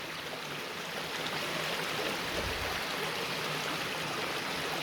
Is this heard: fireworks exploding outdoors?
no